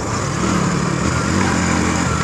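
A motorcycle cruises at speed along the coastal road between Diveagar and Shrivardhan, its engine a loud, steady close drone blended with wind rush.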